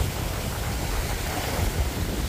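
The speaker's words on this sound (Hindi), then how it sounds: "तो पानी का शोर, लहरों की आवाज़, बहुत खूबसूरत सीन है।" Waves washing onto a windy seaside shore at New Amsterdam, Suriname: a steady, broad surf roar with heavy wind buffeting the microphone, constant throughout and without speech.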